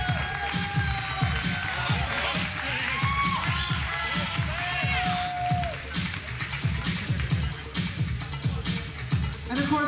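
A pageant audience at an entertainer-of-the-year event claps and cheers loudly and continuously, with whoops and shouts rising above the steady applause.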